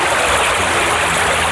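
Flowing water in the Minecraft video game, a loud, constant rushing and hissing wash that stays steady from start to finish, with no speech.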